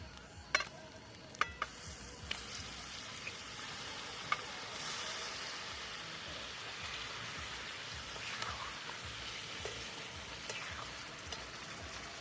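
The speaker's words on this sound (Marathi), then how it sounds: "चांगला मसाला तळून घेतला आता हे मास टाकून घेते" Pieces of meat dropped into fried masala set up a steady, soft sizzle in the pan, with a few light clinks of a utensil early on and no talking.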